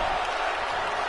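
Arena crowd in the wrestling game WWE 2K24, a dense, steady roar of cheering and applause filling the space without a break.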